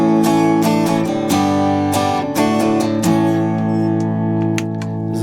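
Strummed electric guitar open chords played through a boost pedal ring out with a bright, slightly driven tone, several full strums letting each chord sustain, no voices.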